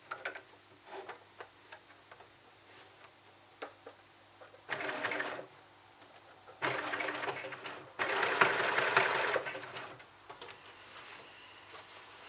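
A sewing machine stitches along the edge of a fabric book bag, with light ticking at first and then several bursts of rapid, close whirring stitching.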